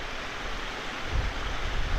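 Clean river flowing over limestone rock on the Limestone Way near Youlgreave, a steady broadband rush of water with low rumble, close and continuous, no talk.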